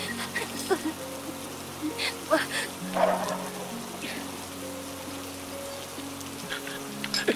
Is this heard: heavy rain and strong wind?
yes